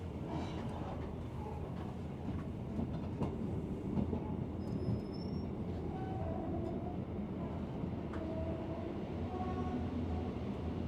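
A steady rumble of a train carriage on the Grimsby to Barton upon Humber line, arriving at a station, with faint clatter and occasional brief squeals, a continuous low drone throughout.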